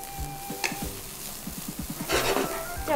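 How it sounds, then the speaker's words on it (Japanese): Rice is stir-fried in a pan for goya fried rice with insect ingredients, with repeated rhythmic scraping and clacks of a utensil against the pan over a soft sizzle, close and fairly quiet. "あと今度はご飯の方を炒めましょう。"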